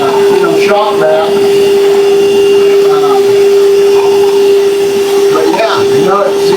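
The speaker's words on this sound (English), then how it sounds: "It's quite a bit for a little cordless, you know, shop vac." A Craftsman 20V Max cordless shop vac runs continuously at close range with a loud, steady whining drone, while a voice briefly talks underneath.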